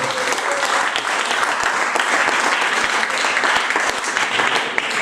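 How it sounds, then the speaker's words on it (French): An audience applauds a poet at a slam poetry tournament, loud continuous clapping with crisp individual claps, close and sustained for several seconds. "On peut applaudir le poète"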